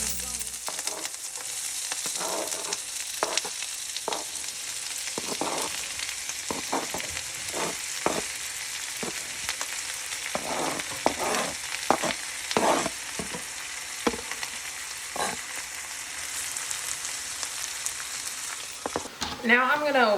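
Onions sizzle and fry in a pan of plenty of olive oil, a steady close crackle with frequent pops and stirring scrapes throughout, while faint voices and music sit in the background.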